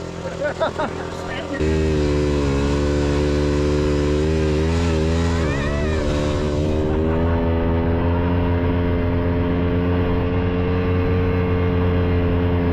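Small Cushman Trackster tracked vehicle engine starts and settles into a steady loud idle, its low rumbling drone continuing close by with brief shifts in pitch, with people talking over it.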